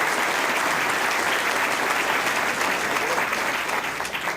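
Dense, steady clapping fills the room from a live audience at a Cook County Board President debate, sustained throughout and fading slightly near the end, with faint voices underneath.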